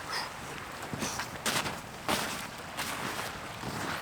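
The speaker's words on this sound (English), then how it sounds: "This wind is all over the place." Gusty wind blows across a freezing winter campsite in Massachusetts, buffeting the microphone in uneven bursts and rushes with no talking.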